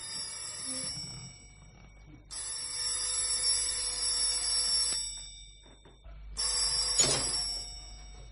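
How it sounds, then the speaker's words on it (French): An old-style telephone rings with a bright metallic bell in three long bursts separated by short pauses, loud and close, with faint background noise between rings. "Le lendemain matin, sonnerie du téléphone."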